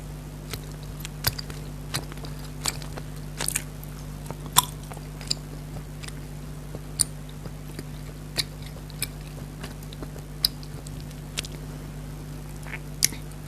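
Jellies being bitten and chewed up close in a quiet room, a series of soft wet squishes and clicks spread irregularly over a faint steady hum, with no talk.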